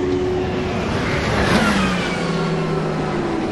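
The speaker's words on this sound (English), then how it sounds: "That was a Peugeot." A Peugeot race car passes at night during an endurance race, its engine a loud, continuous roar with a rising and falling tone as it goes by amid steady track noise.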